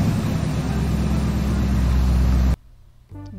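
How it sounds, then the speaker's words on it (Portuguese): A car engine runs loudly and steadily at a low rumble for about two and a half seconds, then cuts off abruptly, leaving a faint, brief mechanical tail. "carro."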